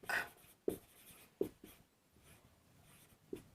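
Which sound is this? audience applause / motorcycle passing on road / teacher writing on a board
teacher writing on a board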